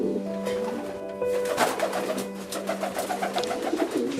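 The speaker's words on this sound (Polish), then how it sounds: "tak wyglądają gołąbki, które pochodzą po gołębiach od Tomka Czaplińskiego" Pigeons coo repeatedly close by, soft throaty calls overlapping against a faint steady hum.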